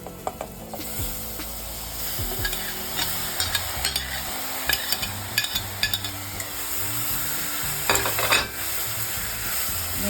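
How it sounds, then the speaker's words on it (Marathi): Chopped snake gourd sautéing in a pan, a steady sizzle broken by repeated clinking and scraping strokes of a spatula against the metal, close and fairly loud. "आता त्याच्यात ही भाजी टाकायची।"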